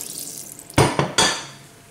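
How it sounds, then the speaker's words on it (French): Water poured from about a litre's measure into a pressure-cooker pot of browned meat for an Algerian Ramadan meal, arriving as a few sharp splashes and clatters over about a second before settling. "après la coloration de la viande, je vais mettre de l'eau, l'équivalent d'un litre d'eau"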